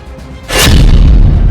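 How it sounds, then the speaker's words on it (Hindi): Rocket blast destroying a building in Israel's strike on Mohammed Deif's hideout in Khan Younis: a sudden heavy boom with a rushing burst, followed by a loud sustained roaring rumble. "उस पूरी इमारत को रॉकेट धमाके से उड़ा दिया गया"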